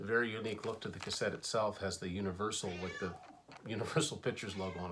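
Chloe, a pet cat indoors, gives a brief meow that is mostly buried under someone talking steadily close to the microphone.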